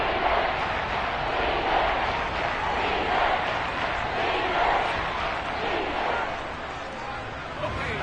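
Stadium crowd roaring in a Madden NFL football video game as a big third down approaches, a steady dense wash of cheering and noise sustained throughout at full level.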